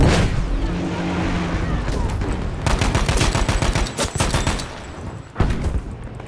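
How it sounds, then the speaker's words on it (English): Grenade blasts and gunfire in the video game Battlefield 5 on a Breakthrough match on Hamada, dense loud rattling bursts and sharp booms, with a heavy explosion near the end and a brief voice underneath. "Tossing a grenade!"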